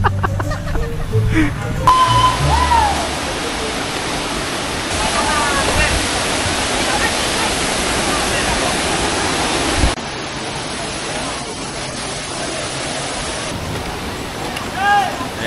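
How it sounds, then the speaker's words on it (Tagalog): Cambugay Falls in Siquijor roars as a steady, broad rush of falling water, loud and near, with brief voices over it at the start and end. "Cambugay Falls"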